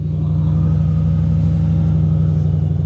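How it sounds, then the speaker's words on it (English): A Ford Mustang GT engine idles with a steady low, droning rumble, close and even throughout, with no voices. "Starting the engine."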